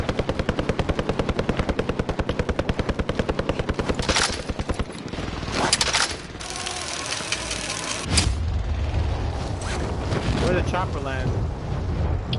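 A helicopter in the game Caldera chops steadily and loudly for the first few seconds, its rapid rotor pulses giving way to heavy bursts, roaring engine noise and clattering gunfire as a player talks.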